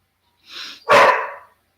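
A puppy barks outside, a single sharp bark preceded by a softer yip or whine, close and loud, with no talk over it.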